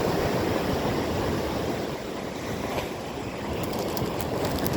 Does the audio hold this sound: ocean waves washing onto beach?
yes